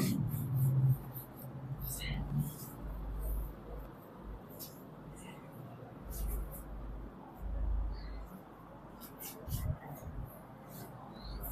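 Lines of a biography of Ishwar Chandra Vidyasagar are written out in repeated scratchy strokes of light scribbling, heard close and quiet, with a person talking intermittently over the writing.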